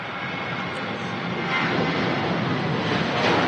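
An airplane at Manchester Airport produces a steady, broad jet roar that swells gradually louder as it draws near, with no voices over it.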